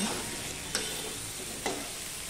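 Potato and pointed gourd stirred in a frying pan, sizzling steadily with two brief scrape-like clatters from the spoon, close and fairly quiet.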